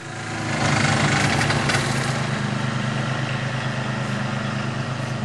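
A lawnmower engine starting up and running at a steady idle, close and loud, with a continuous low rumbling drone and no talk.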